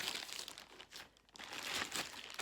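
Close, quiet crinkling and tearing of a cardboard shoe box and paper, with bursts of ripping separated by brief pauses.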